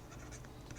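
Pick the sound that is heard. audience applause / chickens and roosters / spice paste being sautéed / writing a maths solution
writing a maths solution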